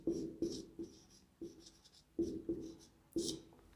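Chalk or marker writing on a classroom board during a psychology lesson, a run of short scratchy strokes in quick uneven bursts, close and fairly clear, with no speech over them.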